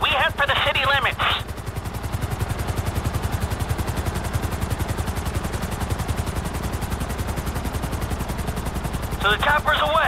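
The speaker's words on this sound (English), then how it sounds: "I'm bringing the chopper back around." Helicopter in the video game GTA 5, a steady rapid rotor chop with low thumping pulses running throughout, loud and continuous, with brief bursts of speech near the start and end laid over it.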